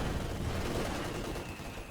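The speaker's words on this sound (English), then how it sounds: "Panzer IV also getting some shots in on the infantry as they move." A Panzer IV tank fires on infantry in Company of Heroes 2 amid a dense, fairly faint battle din of continuous gunfire and distant blasts.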